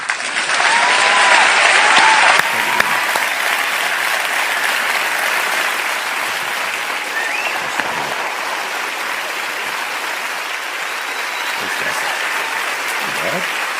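Audience applause welcoming preacher Matt Chandler, a steady roar of clapping from a large crowd that holds strong for the whole stretch, loudest at the very start.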